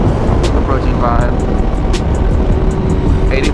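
A 2017 Honda CBR500R motorcycle cruises in sixth gear at roughly 4,000 to 5,000 rpm, giving a steady engine drone with heavy wind rush, and a rider talks over it.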